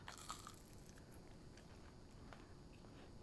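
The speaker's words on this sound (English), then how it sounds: "Can you hear the nice crunch of the crispy outside of this vada?" A single crisp crunch of biting into a fried mixed-lentil vada dipped in coconut chutney, close and fairly quiet, followed by soft chewing.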